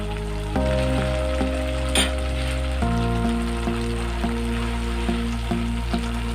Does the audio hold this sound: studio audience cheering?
no